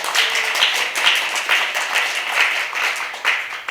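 An audience at a military service policy debate forum applauds, dense close clapping with regular pulsing surges that carries on without a break.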